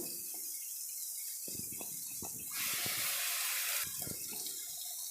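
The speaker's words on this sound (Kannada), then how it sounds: "ಇದೇ ಜಾರ್ಗೆ ಒಂದು ಗ್ಲಾಸ್ ನೀರು ಹಾಕ್ಕೊಂಡು ಸೇರಿಸ್ಕೊಳ್ತಾ ಇದ್ದೀನಿ" A steady hiss of running water rises into a louder gushing stream for a couple of seconds as a glass of water is poured into a mixer jar, with light knocks and clinks against it.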